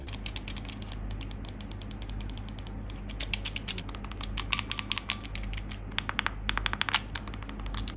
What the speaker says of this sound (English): If I give you a little sound test now, between the normal Joy-Con buttons and the MobaPad